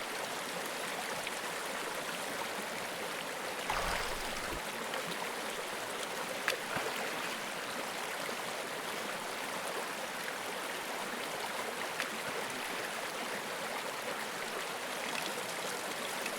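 A Yukon river flows with a steady, even rushing wash that stays level throughout, with a brief low thump near the middle and no voices.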